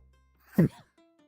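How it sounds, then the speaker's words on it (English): A single short, close sneeze bursts out in near silence, over in well under a second. "Stop sneezing."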